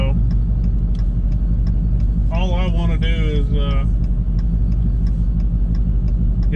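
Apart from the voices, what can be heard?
Dodge Hellcat with Kenny Bell supercharger idling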